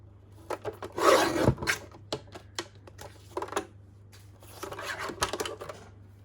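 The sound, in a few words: trimming a branding strip off paper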